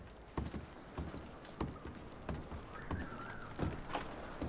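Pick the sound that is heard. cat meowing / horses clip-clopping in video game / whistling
horses clip-clopping in video game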